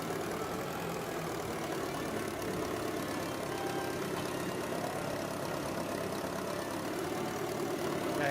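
A vintage John Deere 820 tractor fitted with a forklift transmission idles steadily, a continuous low diesel rumble holding at an even level throughout, with no voices present.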